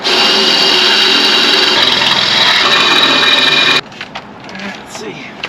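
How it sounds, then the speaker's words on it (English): A power drill bores out rusty rivets on an RV, a loud steady whine running for nearly four seconds before cutting off into quieter shuffling and faint talk. "now I just got to drill out the rivets"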